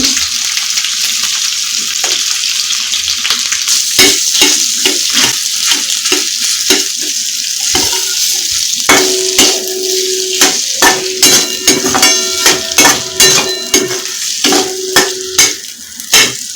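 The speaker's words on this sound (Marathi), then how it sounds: "बटाटे आहेत ते असं हाताने मॅश करून घालायचे आहेत" Boiled potatoes mashed by hand drop into a frying Kolhapuri misal base in a pan, giving steady sizzling with repeated scraping and stirring knocks that grow busier toward the end; no talking.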